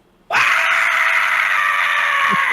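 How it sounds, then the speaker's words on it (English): A person screaming in rage during a tabletop fantasy role-playing session: one loud, sustained, strained scream that starts abruptly and holds steady without breaking. "I just start screaming and go into a rage."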